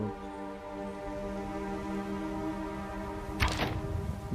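A single sharp impact near the end, like an arrow striking stone, from an arrow shot at a rock in Skyrim VR, over a steady droning game-music background.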